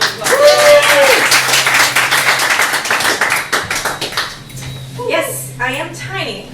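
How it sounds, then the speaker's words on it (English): Applause and clapping at an open-mic evening, loud and close at first, then thinning into scattered claps and cheers as a voice speaks over the tail end. "Let's give her another round of applause."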